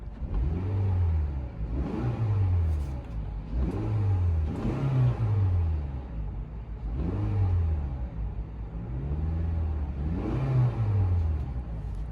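A 2018 Toyota RAV4 Limited engine revving repeatedly, about six rising and falling bursts in a steady rhythm, loud and close with no talking.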